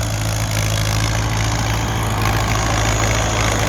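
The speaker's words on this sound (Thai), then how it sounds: "รถไถฟอร์ดคันนี้" A Ford 6600 tractor engine idles steadily up close, a loud, continuous low rumble with a constant mechanical drone throughout.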